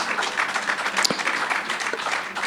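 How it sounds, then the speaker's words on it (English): Brief applause from an audience in a tent discussion about solidarity with Palestine, a short burst of clapping with a sharp knock partway through. "Round of applause for that, I think."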